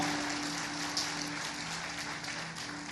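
Steady applause from a church congregation fills the space, a dense, even wash of clapping that holds at moderate loudness throughout without voices.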